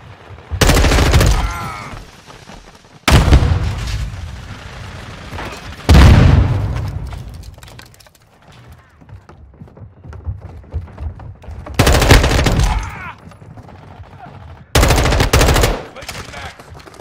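Gunfire in Modern Warfare 2: several loud, close bursts of rapid automatic fire, each lasting about a second or two, separated by quieter gaps with faint game ambience.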